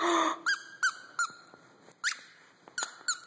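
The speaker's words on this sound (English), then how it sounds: "I found the squeaker." Squeaker inside a dog toy gives a series of short, sharp squeaks in uneven bursts, about eight in all, fairly loud and close, with quiet gaps between them.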